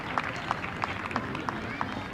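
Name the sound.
audience applause at a Christmas celebration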